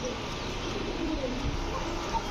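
Pakistani Kaldom pigeon cooing among other birds, soft low coos over a dense steady background hum of a crowded pigeon market, moderately near.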